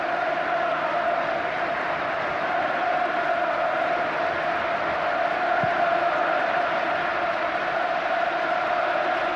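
A 40,000-strong football crowd roars at Old Trafford, a continuous broad wash of distant cheering and whooping that holds steady at moderate level.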